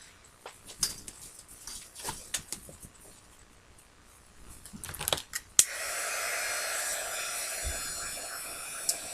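A hair dryer switches on partway through and blows a steady, close rushing hiss while drying white paint on a frame; scattered faint rustling and handling noises come before it.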